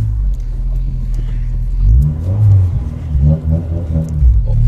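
A Mazda RX-7 FD with a modified exhaust rumbles at a low idle close by, then swells through two or three quick throttle blips before easing back, with no talking.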